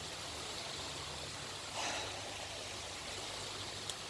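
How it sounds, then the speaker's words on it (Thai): Water rushing steadily at Kham Hom waterfall in Sakon Nakhon, a continuous, full broadband roar of flowing water over rock that holds an even level throughout, with no voices. "น้ำไหลเรื่อยๆก็มีมันเป็นน้ำตกแบบแรงๆครับ"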